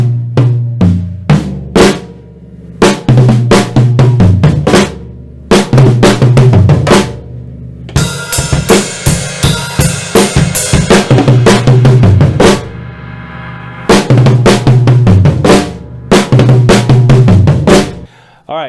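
Drum kit playing a song, loud and close, with sharp repeated hits in a steady rhythm and a dense crash-filled fill section in the middle before the groove returns.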